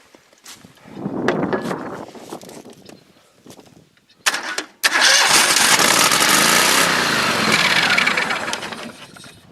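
An engine cranks and sputters, catches briefly, then roars to life and keeps running loudly and steadily, close by.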